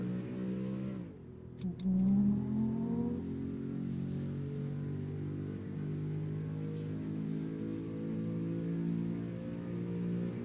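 A Jeep Grand Cherokee SRT8 in Euro Truck Simulator 2 revs its engine with a steady, loud droning hum that climbs in pitch early on, then holds a sustained cruising tone with small rises throughout.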